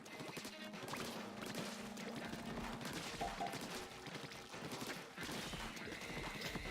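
Enemy gunfire in Splatoon 2 Salmon Run, a dense, faint rattle of rapid shots and splatter sounds mixed with game effects, continuing throughout with brief pauses.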